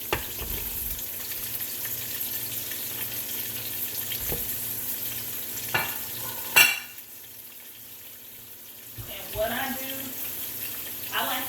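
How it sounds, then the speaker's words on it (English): Sausage frying in a pan gives a steady close sizzle, with a few knocks and rustles, a brief sharp clatter midway and a quieter stretch before the frying resumes. "So adding in the sausage."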